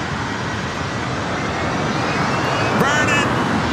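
Airliner on takeoff roll from runway 24 right at LAX, a broad steady roar of jet engines heard from nearby, swelling slightly toward the end with a faint whine rising over it.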